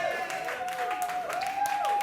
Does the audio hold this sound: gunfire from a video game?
no